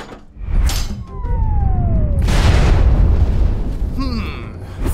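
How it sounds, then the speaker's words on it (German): A cartoonish explosion of flying, flaming objects: a sustained loud roaring blast with a descending whistle before it and a brief popping burst near the end. "Fliegende, explodierende, flammende Gegenstände."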